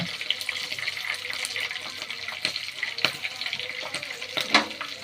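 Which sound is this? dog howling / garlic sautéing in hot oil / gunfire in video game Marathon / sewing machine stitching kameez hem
garlic sautéing in hot oil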